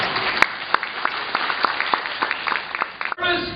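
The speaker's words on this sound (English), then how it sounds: "Let's give her a clap." An audience in a room at a customer service talk claps together, a dense patter of individual claps that fades out, followed by a brief muffled burst of noise.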